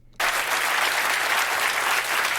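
Studio audience applause at a late-night talk show bursts in abruptly and holds as a dense, steady wash of many hands clapping, loud and continuous with no voices over it.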